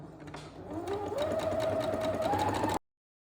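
Sewing machine running steadily while stitching around the edges of fabric bunting flags, a continuous close motor whir with a rising pitch that stops abruptly near the end.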